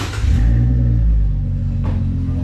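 Ford Mustang fitted with a new exhaust starting up, a loud deep engine rumble swelling at once and settling into a rough, throaty idle, heard alone and close.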